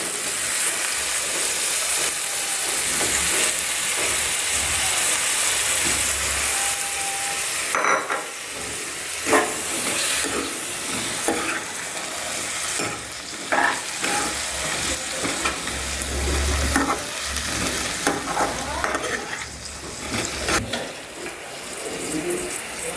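Potato pieces fry with onions in hot oil as a steady broadband sizzle runs throughout, broken by occasional clinks and scrapes of a spoon; birds faintly coo in the background.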